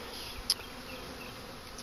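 Honey bees buzzing around a hive during a spring hive split, a faint steady hum with one brief louder pass of a bee near the microphone.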